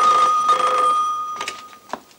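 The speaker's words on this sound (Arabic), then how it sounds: "طب رد بس على التليفون." An old telephone bell rings loudly indoors in an Egyptian film scene, an insistent ringing burst that fades out, followed by a few short softer sounds.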